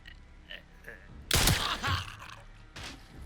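Pistol shots in Resident Evil: Requiem, a few sharp cracks spaced a second or so apart, the loudest in the middle, over quiet background with faint in-game sounds.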